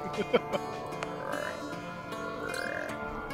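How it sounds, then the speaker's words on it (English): Frog rain in the video game Don't Starve Together: scattered croaks and gulping frog calls over a steady ambient game drone, with a few louder calls near the start and soft tonal sweeps later. "Frog rain."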